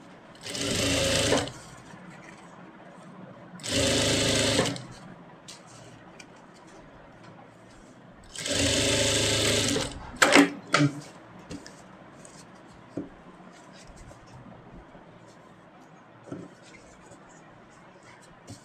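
A sewing machine stitching fabric for a ladies' kurti in a sewing class, running in three short close bursts. Quiet handling noises and a few clicks of fabric work fill the gaps between bursts.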